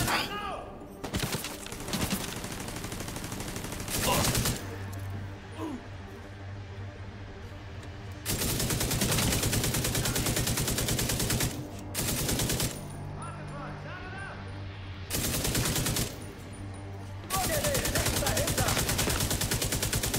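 Sustained automatic gunfire in the video game The Division 2 comes in long, loud, dense bursts of rapid shots, broken by short pauses, with faint game voices now and then.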